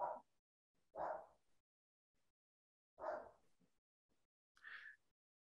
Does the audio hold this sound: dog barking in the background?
yes